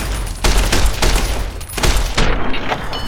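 Repeated shotgun blasts from the Fallout: New Vegas video game, several loud booming shots in quick succession with no talking over them.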